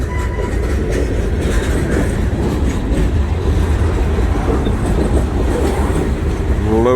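Freight train of loaded boxcars rolling by at around 15 mph: a loud, close, continuous rumble with rattling and faint rhythmic clatter, and a brief rising squeal at the very end.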